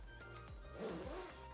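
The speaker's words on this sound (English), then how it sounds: "you want to squeeze as you pull the zipper" A zipper on outdoor gear zips quickly along its track, a short rasping pull closed followed by a second pass open, close and clear against faint background hum.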